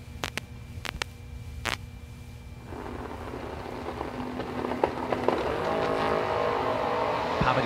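Drag racing cars, an S10 pickup truck and a Nova, at the start line of a drag race, engines rumbling, then a broad roar building from the middle of the clip as they launch, with a few sharp pops early on.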